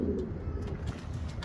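Pigeons coo in low, throaty murmurs close by, a steady rolling burble that carries through the whole moment.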